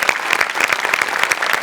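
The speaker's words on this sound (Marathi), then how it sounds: "बाबाजींसाठी एकदा जोरात टाळ्या." Studio audience applauding on a Marathi comedy show, dense steady clapping from a crowd, close and loud throughout with no speech.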